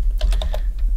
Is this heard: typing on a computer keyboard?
yes